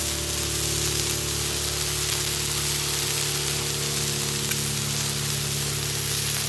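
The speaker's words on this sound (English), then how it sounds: "Butter, a little bit of avocado oil. Get those toasted up." Buns toasting in butter and a little avocado oil on a Camp Chef griddle, giving a steady, loud, even sizzle with a constant hiss and low hum, no talking.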